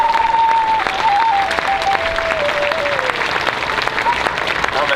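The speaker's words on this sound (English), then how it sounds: "give a round of applause for Steve" Crowd applause at an outdoor rally against the Keystone XL pipeline, steady and fairly near, with a voice or sustained tone carrying faintly over the clapping.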